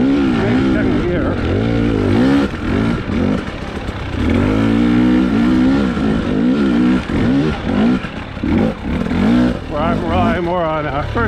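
Motorcycle pulling away in first and second gear, a loud close engine note rising in pitch through repeated climbs and drops as gears change, with a short throttle blip near the end.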